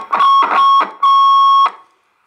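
Received signal on a President Adams mobile AM/SSB CB radio, heard as loud electronic tone bursts: two short beeps followed by a longer sustained tone, clear and close.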